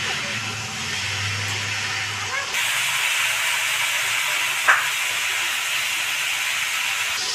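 Tangra fish sizzle and hiss steadily in a frying pan with a faint scrape of stirring, a low hum in the first seconds and a single clink near the end.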